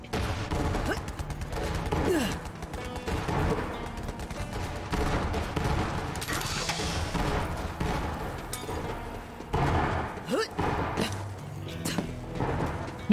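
Vehicle-mounted guns firing in Borderlands 3, sustained rapid bursts of loud gunfire with booming impacts layered throughout, dense and continuous.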